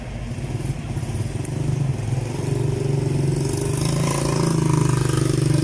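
A motorcycle engine runs steadily nearby, its low rhythmic putter building slightly louder over a few seconds, with no voices.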